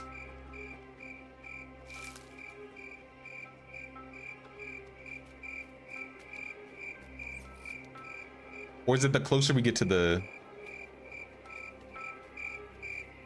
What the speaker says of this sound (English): who turned on the crickets? Are the crickets breeding up here?